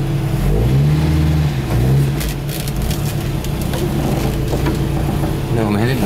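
A Volvo Amazon 122S station wagon engine running at close range, a loud steady rumble with brief revs as the car is maneuvered around a driveway, someone talking over it.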